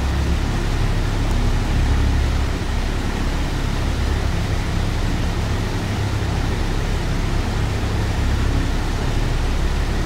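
Piston engines of a PMDG Douglas DC-6 airliner in a flight simulator, a steady loud broadband rumble with deep low drone holding evenly throughout while the aircraft taxis.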